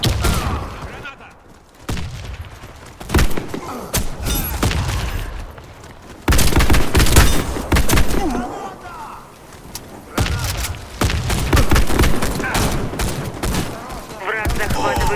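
Video game combat with rapid bursts of gunfire and heavy thumping explosions including a grenade blast, loud and continuous with brief lulls, and voices shouting amid the fighting.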